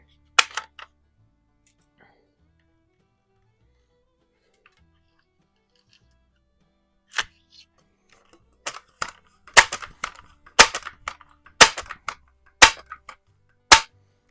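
A Barra 1866 .177 multi-pump air rifle fires in a garage: sharp, close cracks scattered over the clip, with clicking pump and handling sounds between them and a burst of several shots toward the end.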